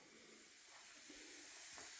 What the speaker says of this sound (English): Just a little hole is all it takes, guys, and these things are gassing off.